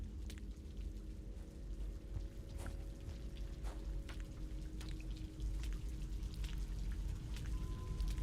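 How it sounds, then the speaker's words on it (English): Gentle rain falling in the video game Rain World, a steady soft patter with scattered drips and drops over a low constant background, no talking. "Maybe the rain is like gentle here."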